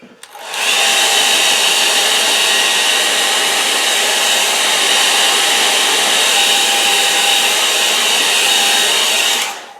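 A hair dryer blows steadily over an acrylic painting, switching on with a loud, even rushing whine that holds for several seconds before cutting off.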